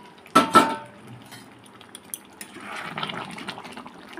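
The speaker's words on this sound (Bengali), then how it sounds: "এখন আমি গরম জল করে রেখেছি, দিয়ে দেবো।" Hot water pours into a pot of cooking goat mutton, a couple of sharp splashes up front followed by a softer running, sizzling wash and light clinks of pot and utensils.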